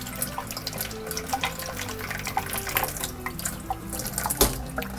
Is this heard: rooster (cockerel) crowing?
no